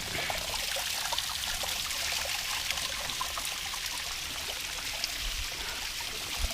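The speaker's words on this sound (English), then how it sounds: "I'm rappelling in a waterfall. I'm getting soaked." Broadband waterfall water pours and splashes steadily during a rappel down the falls, loud, close and continuous for the whole stretch, with no talk over it.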